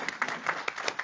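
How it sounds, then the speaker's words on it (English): Brief, fairly faint clapping from a workshop audience, a handful of distinct hand claps spaced irregularly over about a second. "Clap for Stephanie."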